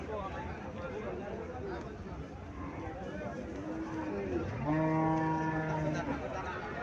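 A new Holstein Friesian cow at a cattle market lets out one long, loud, rising moo near the end, over a steady hubbub of crowd chatter and someone talking throughout.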